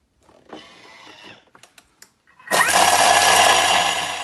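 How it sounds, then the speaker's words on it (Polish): A kitchen blender loudly whirs to life, blending chunks of fresh ginger root with herbs as a steady grinding roar, after a few light clicks and knocks from fitting the measuring cap onto the lid. "I teraz zakładamy miarkę na pokrywę i będziemy miksować razem z ziołami"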